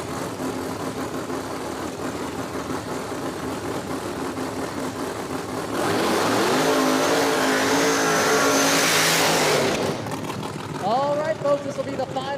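No-prep drag racing car making a solo pass at Beech Bend Raceway Park, a loud sustained engine roar building midway and cutting off near the end, under an announcer's ongoing commentary.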